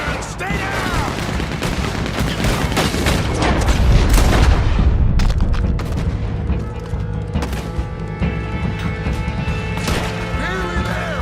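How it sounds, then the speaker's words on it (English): A Gatling gun in Red Dead Redemption 2 rattles in a loud, rapid stream of shots during a bank shootout, mixed with booms and other gunfire, with voices talking over parts of it. "I'm gonna hit you I got a Gatling gun!"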